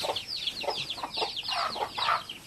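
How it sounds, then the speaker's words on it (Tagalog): Chickens cluck in short, repeated bursts at a farm during feeding time, several birds close by with overlapping calls and no talk. "Oh, manok guys."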